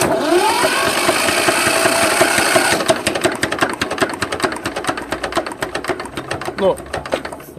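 A heavy walk-behind tractor's diesel engine runs hard at first, then settles at minimum throttle into a slower, regular chugging beat, each firing stroke distinct and close by.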